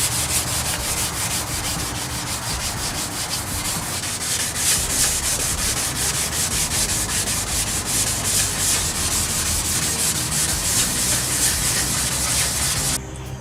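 Steady, continuous sanding of a plastic car bumper with 320-grit paper, a dense rasping scratch running close and loud for the whole stretch with no talking.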